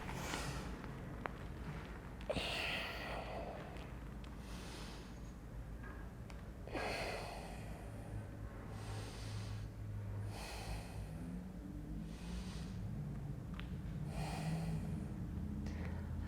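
Slow, deep breaths with audible inhales and exhales repeat in a steady cycle during a yoga bridge pose, soft and close, with no talking.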